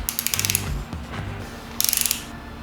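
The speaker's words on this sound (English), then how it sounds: "Let's try this torque wrench." Rapid ratcheting clicks from a torque wrench tightening a bolt on a Chevy Cruze 1.8 turbo engine being assembled, two short close bursts of even clicks separated by a pause.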